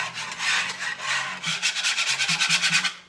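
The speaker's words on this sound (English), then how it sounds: "So I'm just mixing up. Kind of loud. So this is just milk and egg." Milk and egg being mixed by hand in a bowl, a close, fairly loud scratchy whisking with a quick rhythmic back-and-forth that speeds up toward the end; no voices.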